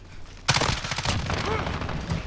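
Gunfire in a Call of Duty Modern Warfare match in the Azhir Cave map, Kill Confirmed mode, a sharp loud burst followed by continuing clattering shots and game noise, with faint voices underneath.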